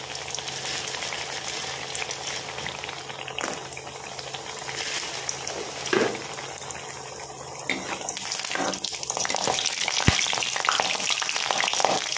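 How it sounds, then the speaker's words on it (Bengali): Bori (lentil dumplings) frying in hot oil for dudh sukto, giving a steady, close sizzle and crackle throughout with occasional stirring clinks and no talk. "বড়িটা আগে ভেজে নিচ্ছি"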